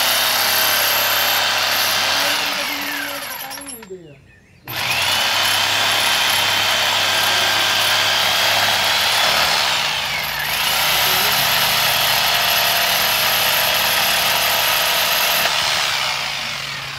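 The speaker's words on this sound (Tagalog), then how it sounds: "Lagari siya na di kuryente." A non-electric saw cuts timber at a house construction site, a loud close droning whine that runs steadily, drops out briefly after about four seconds, then resumes and swells and dips as the cut goes on.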